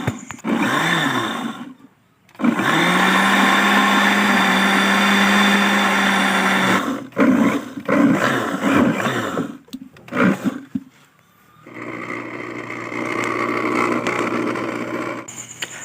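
A blender blending leaves with water roars loudly for several seconds, stutters through a few short pulses, then runs again with a steady whirring grind.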